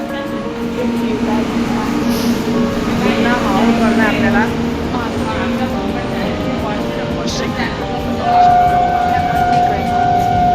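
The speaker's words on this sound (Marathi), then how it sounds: "हे बघा रेल्वे आलेली आहे." A train arriving at a station rumbles and hums steadily nearby, with sustained tonal whines rising over the noise while someone talks over it.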